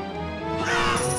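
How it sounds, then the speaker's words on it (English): Birds squawk and caw in the Maximo video game as they swoop in to attack, a harsh, close cry that swells over a busy game background for just over a second. "In this game, I really hate birds."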